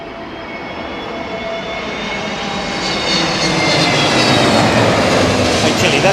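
A jet aircraft arriving at Heathrow Airport in gusty conditions roars loudly and steadily, the engine noise building and swelling as the plane passes close by.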